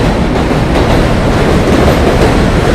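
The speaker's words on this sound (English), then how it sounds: "Oh, the train's coming." A heavy train roars past close by during a Williamsburg, Brooklyn walk, a loud steady rumble with rattling wheels and clatter filling the whole time.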